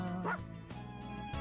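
Koromaru the dog from Persona 3 Reload gives a few short yipping barks with whimpering tones between them, close and clear, over a faint musical background.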